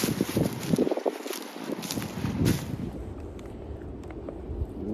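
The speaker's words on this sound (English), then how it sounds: "I don't know if you'll be able to hear me talk over the wind or if you'll just hear the wind" Gusty wind buffets a mountain trail, loud rushing bursts early that ease into a softer steady blow, with no voices heard.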